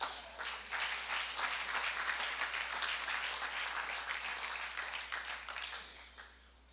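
A church congregation applauds steadily for nearly seven seconds, a dense wash of many hands clapping together that fades out toward the end.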